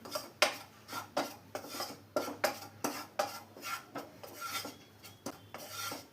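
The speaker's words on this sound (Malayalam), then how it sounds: "ഫ്ലെയിം ഒന്ന് സിമ്മിൽ വെച്ച് കൊടുത്ത ശേഷം ഈ പൊടികളെല്ലാം ഒന്ന് ചൂടാക്കിയെടുക്കാം." Spice powders heated over a low simmer flame in a pan for paneer mushroom masala, stirred with a utensil in a run of regular rasping scrapes, close and alone, about a dozen strokes.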